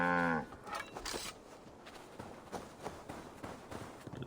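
A single low, drawn-out moo from a cow in Assassin's Creed Valhalla at the start, then soft rhythmic footstep-like thuds continuing through the rest.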